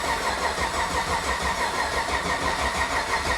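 A brand new, tight engine cranks and labours on a weak, lazy battery, a steady close mechanical churn running without a break and with no voices over it.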